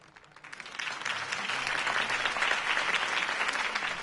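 Crowd applause after a campaign speech in the video game The Batman: Telltale, swelling in from a quiet start into a steady, sustained roar of clapping that holds strong to the end, with no voices over it.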